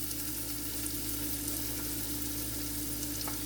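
Onions frying in a wide-bottomed pot for ragu bolognese, a close, steady, dense sizzle with faint occasional scrapes from stirring.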